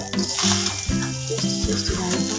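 Ground sugar and spice stirred into a frying pan over low gas heat, giving a steady close sizzle with repeated scraping and stirring knocks from a utensil against the pan.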